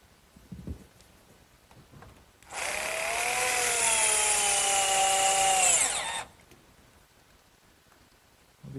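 A power tool drives in fasteners at the end of a wooden sandbox frame in a woodworking shop, one steady loud burst of about four seconds with quiet before and after.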